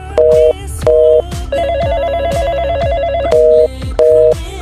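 A phone rings loud and close with a repeating electronic ringtone, bursts of beeping tones and a trilling melody, going unanswered with no one picking up.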